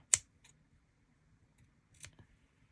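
Scissors snipping paper or craft material for a mixed media project, one crisp close snip followed by a few softer cuts and clicks in a quiet room.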